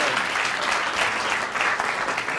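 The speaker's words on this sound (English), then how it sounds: "So, round of applause for our guests." Brief, dense audience applause for guests at a talk event, a continuous close wash of clapping hands lasting a couple of seconds with no voices over it.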